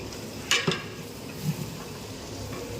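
Vegetables sauté in oil for a vegetable pulao cooked as a temple food offering, a low, soft crackle with a couple of sharp utensil clicks near the start and a dull knock midway.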